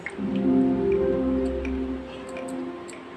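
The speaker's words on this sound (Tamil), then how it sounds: "அதில் நம்ம இப்போது ஆயில் விட்டுக்கிறோம்." Oil is poured into a frying pan on a stovetop to shallow-fry a banana-flower cutlet, a short, close, soft liquid gurgle that fades out over a few seconds, followed by faint clicks.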